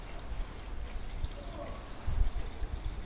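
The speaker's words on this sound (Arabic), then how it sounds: "صب الماء" Water pours into a car engine's reservoir as a steady, low, muffled stream that swells slightly toward the end, with faint background noise.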